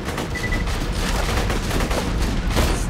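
Gunfire in the Borderlands shooter game, including sniper rifle shots, heard as a continuous busy barrage of shots and booms with no clear gap throughout.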